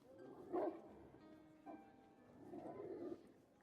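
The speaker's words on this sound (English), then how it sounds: "God damn, where are the dogs coming from?" Dogs barking nearby, a few muffled, moderately loud barks spaced irregularly over a low background, with no talking.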